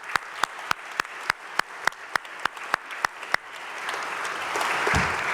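At a panel event, about a dozen single hand claps land in an even, quick rhythm before the audience breaks into broad, sustained applause that swells toward the end.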